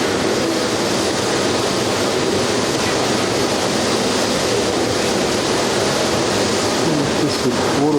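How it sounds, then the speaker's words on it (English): Waterfall cascading down a mountainside into the sea near a glacier, a loud, steady broadband roar of rushing water with no breaks, dense and close throughout. "Sheer amount of water cascading down that mountainside."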